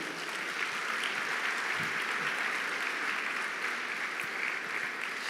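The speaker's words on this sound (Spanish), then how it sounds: "dele fuerte ese aplauso al Señor" A church congregation claps together in steady, dense applause that fills the room evenly from start to finish, with no voices standing out.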